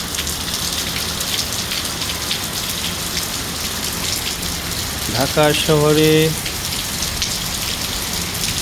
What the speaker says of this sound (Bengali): এই দেখেন বৃষ্টি।